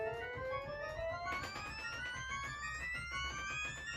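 Mixture stop on a pipe organ sounding high upper partials, a thin bright run of rising pitches that breaks back lower, played quietly and alone.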